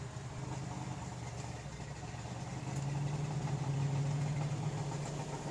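A 1963 Ford Galaxie 500 with a stroked engine idles steadily, a low, even rumble that swells slightly louder partway through, heard close and alone with no talking.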